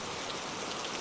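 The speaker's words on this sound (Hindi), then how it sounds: "हे भगवान, बारिश के साथ ओले भी पड़ रहे हैं।" Steady rain with hail pounding down at night on a village in a cartoon, a dense, even hiss of drops across the whole short stretch with no voices.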